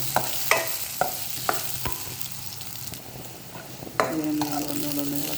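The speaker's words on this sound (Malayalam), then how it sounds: "ഇത് ഞാൻ ആ നെയ്ക്കകത്ത് തന്നെ കിടന്ന് വഴറ്റാൻ പോവാണ്." Banana sautés in ghee in a pan, giving a continuous close sizzle punctuated by sharp regular spatula taps and scrapes as it is stirred, with a louder flurry of stirring near the end.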